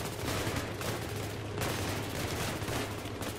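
Enemy gunfire in the Battlefield 3 video game, a dense continuous barrage of rapid shots with a heavy low rumble, loud and steady throughout with no pauses.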